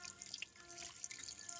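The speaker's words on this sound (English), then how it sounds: "First of all, you give it nice water." Water trickling and splashing as it is poured onto a potted plant, a faint, continuous pour with small drips, close by and alone.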